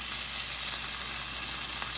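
Shrimp fry in melted butter in a pan, giving a steady, close hiss of sizzling that holds evenly from start to finish with no voices.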